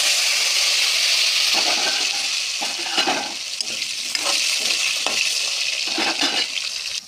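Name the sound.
potato pieces frying in oil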